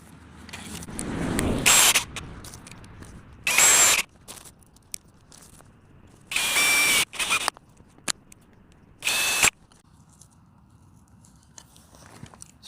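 A power drill drives screws into wood without pre-drilling, heard as four separate whirring bursts of a second or so each, loud and close, with quiet pauses in between.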